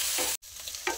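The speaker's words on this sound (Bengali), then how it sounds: "দিয়ে একসাথে ভালো করে ভেজে নেব" Egg, onion and tomato frying together in oil for a Bengali-style egg veg pasta, a close, dense sizzle with stirring scrapes, cut by a brief silent break, no voices.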